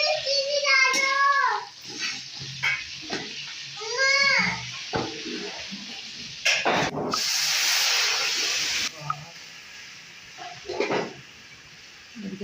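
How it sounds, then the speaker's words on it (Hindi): Onions are tempered in hot oil for a chana dal and bitter gourd curry, giving a burst of bright, steady sizzling hiss in the middle, with someone talking before and after. "इधर प्याज का तड़का लग रहा है।"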